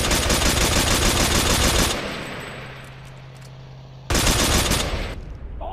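A purchased gun in MTA DayZ fires in loud, rapid automatic bursts close by, stopping for about two seconds before the rattling fire resumes.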